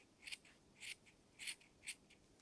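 Scissors snip through the crochet yarn tail ends of a tassel, with four quiet, close cuts spaced roughly half a second apart over a soft background hiss.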